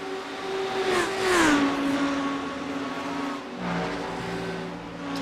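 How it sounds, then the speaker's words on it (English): Lamborghini race car engine in an IMSA racing video game at Road America, revving loud and close with a falling pitch as it shifts, then climbing again, tires faintly squealing, no talk. "Lamborghini does sound really good"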